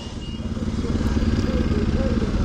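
A troubled motorcycle runs on a jungle stretch of the Dharan–Itahari road, its engine chugging loud and close in a steady, rough idle with some clatter.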